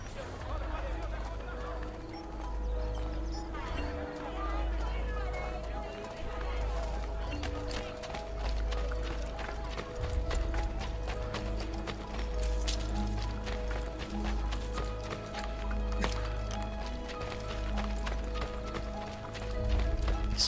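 Steady clip-clop of horse hooves running in the video game Assassin's Creed Brotherhood, with a whinny and the busy bustle of a crowd and background music throughout.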